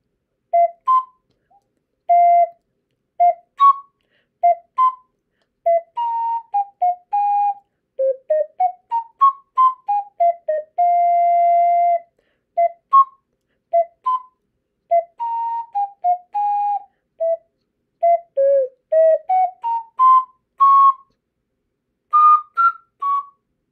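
A melody from Kiki's Delivery Service played on an ocarina, pure whistle-like tones in short phrases with a few held notes and brief pauses, clear and close with no talking.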